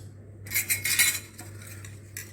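A spoon or whisk clinks and scrapes against a bowl as turmeric, salt and spices are whisked into water, a quick burst of close metallic rattling that trails off.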